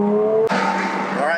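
Porsche Cayman race car with a 3.4L engine driving on track, its engine note rising steadily and then jumping to a louder, rougher roar as it accelerates, close and continuous, with a squeal of tires under load.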